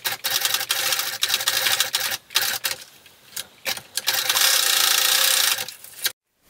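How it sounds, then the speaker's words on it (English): A sewing machine runs zigzag stitches over the elastic ends of swim trunks, whirring close and steadily in several runs separated by brief pauses, then stopping. "Then we're going to sew a rectangle around or do some zigzag stitches to hold that in place."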